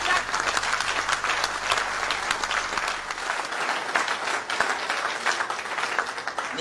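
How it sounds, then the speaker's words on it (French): Sustained audience applause in a hall after a call to applaud a speaker at a pan-African award ceremony, steady dense clapping at even loudness throughout, with no talk over it. "Et donc pour cette raison, applaudissons Paul Ella"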